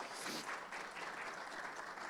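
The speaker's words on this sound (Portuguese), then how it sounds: "uma salva de palmas para ele" Audience at a symposium on drone delivery applauds as a speaker is called to the stage, a continuous wash of clapping heard from some distance, fairly faint.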